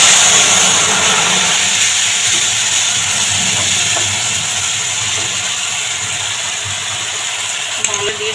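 A paste of mango, green chili and coriander hits a hot pan for a vegetarian coriander-eggplant dish, giving a loud, steady sizzling hiss that eases slightly over time.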